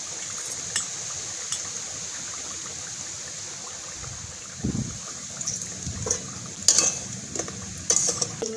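Steady soft sizzling of oil in a pan frying semolina sweets, with occasional stirring clinks and scrapes becoming more frequent toward the end.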